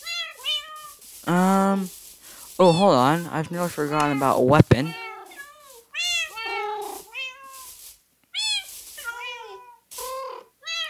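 Minecraft beta 1.14 cats meow over and over, clear close cries in quick succession, while someone speaks briefly between and over them.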